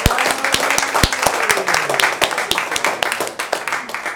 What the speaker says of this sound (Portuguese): Salva de palmas pro Thiago,